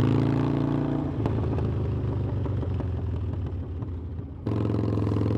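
A Harley-Davidson Forty-Eight motorcycle engine runs nearby with a loud, steady, deep rumble. The tone shifts and drops slightly near the end, then jumps back up.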